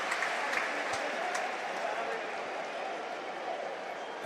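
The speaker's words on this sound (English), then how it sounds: "Well, the applause ringing around the stadium." Broad, continuous clapping from a big stadium crowd at a Barcelona–Real Betis football match rolls on evenly, heard from afar as a dense hiss of hands.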